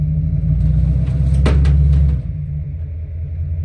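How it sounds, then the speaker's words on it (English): A vehicle slowly pulling a trailer with a wrecked Mercedes C63 AMG aboard gives off a heavy, steady low engine rumble that dips after a couple of seconds, with a faint creak or clunk in the middle. "I guess I'm just gonna have to slowly drive the trailer out."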